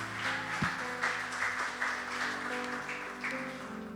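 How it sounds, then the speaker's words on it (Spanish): A church congregation applauds during a Spanish-language sermon, a dense, steady clapping sound with sustained music or organ tones underneath and no voices over it. "Denle un fuerte aplauso al Señor"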